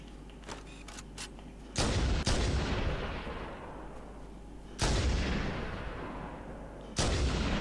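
Heavy gunfire in the Halo video game, three loud booming shots spaced a few seconds apart, each with a long decaying rumble and lighter clicks before the first.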